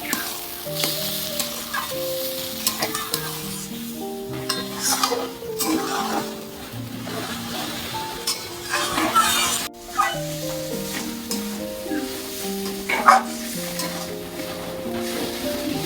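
Ash gourd and shrimp ghonto is stirred in a pan with sugar, a spoon scraping and clinking against the metal in steady repeated strokes over a soft sizzle, with background music.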